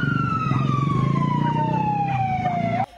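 A wailing fire truck siren sweeps slowly downward in pitch over rumbling engine noise as the truck arrives at a burning motorcycle on a Pagadian City street, loud and close, then cuts off abruptly.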